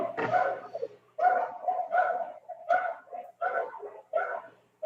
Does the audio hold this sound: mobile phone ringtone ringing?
no